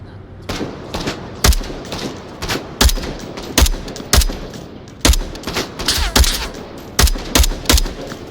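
An AK 5C rifle in the VR game Onward fires single shots, about a dozen sharp, loud reports at a fairly steady pace with brief gaps between them.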